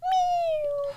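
A cat gives a single high-pitched meow, a clear drawn-out tone about a second long that slowly falls in pitch, close and fairly soft over a faint background hum.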